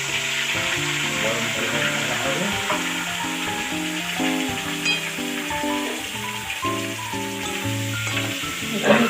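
Tomato and onion frying with turmeric for lote fish jhuri, stirred in the pan: a steady close sizzle with scraping stirs throughout, under a continuous layer of background music.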